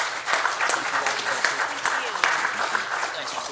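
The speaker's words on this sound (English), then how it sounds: "So how about a nice round of applause for our school board members" At a Board of Education meeting, the audience claps for the school board members. Dense, loud applause fills the room throughout, with voices mixed in underneath.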